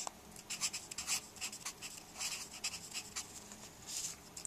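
Pen or pencil scratching across paper while fraction division is worked out by hand, a series of quick rubbing strokes with short pauses between them, close and fairly quiet, no speech.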